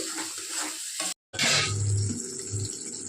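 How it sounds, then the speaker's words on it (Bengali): Water is poured into a pan of frying turmeric masala for a Bengali mustard fish curry, a brief hiss and gush that quickly settles into steady bubbling sizzle after a short silent gap. "এবার জল দিয়ে দিলাম"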